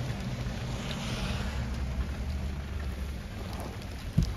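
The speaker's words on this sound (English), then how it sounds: "Sorry I'm shooting these from inside the car. It's just raining." Steady rain patters on a car roof and windows at Clear Lake, a constant dense hiss with a soft low rumble, and a small knock near the end.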